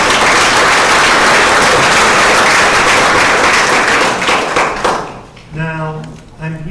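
An audience at a historical awareness presentation gives a loud, dense round of applause that fades out after about five seconds, leaving a speaker's voice.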